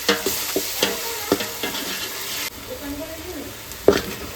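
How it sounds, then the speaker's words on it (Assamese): Ginger garlic paste sizzles and fries in a hot pan while a spoon stirs and scrapes it in quick, uneven strokes, with a sharp clink near the end; the sizzle stays close and continuous. "এতিয়া এনেকৈ ভাজি আছোঁ, ব্ৰাউনিছ টাইপ হৈছে"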